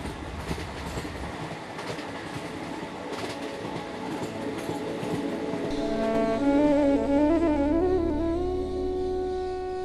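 The Maharajas' Express luxury train rumbles steadily while moving, heard from inside a coach, with a rising whine of wheels on rails growing louder partway through.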